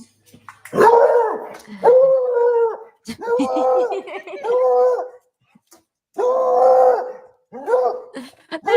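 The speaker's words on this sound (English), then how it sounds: "alligator's cartoonish retreat from dog's bark goes viral" A dog's odd, drawn-out howling bark in a viral clip of an alligator retreating, a series of loud, wavering yowls in separate bursts with short gaps between them.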